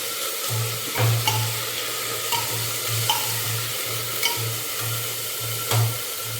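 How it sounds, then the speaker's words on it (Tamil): Brinjal and capsicum sauté in a pan, a low sizzle under rhythmic scrapes of a spoon stirring back and forth roughly once a second, with occasional clinks against the pan, close and without talk. "அப்புறம் இந்த கத்திரிக்காய் அண்ட் குடமிளகாய் போட்டு வதக்கிக்கலாம்."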